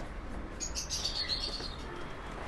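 Racing pigeons in a loft give soft, faint chirps and cooing calls in the middle of a quiet room, a brief cluster of bird sounds over low background hum.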